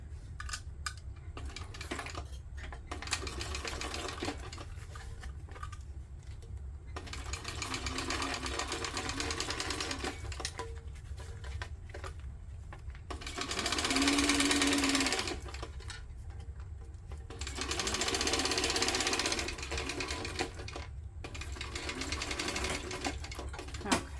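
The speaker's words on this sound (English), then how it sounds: "as I go, I'll start to fold under so that I'm really top stitching" A sewing machine top stitches fabric for a car organizer, running in bursts of rapid even needle chatter, some louder and longer, separated by short pauses and handling noises, close up with no speech.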